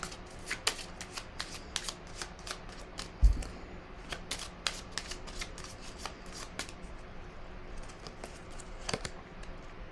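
Playing cards being shuffled in quick riffling bursts, crisp and close, repeating throughout in a quiet room with no talk.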